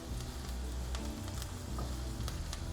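Roasted gram flour sizzles steadily in a hot pan with oil, a dense continuous frying hiss with faint stirring clicks throughout.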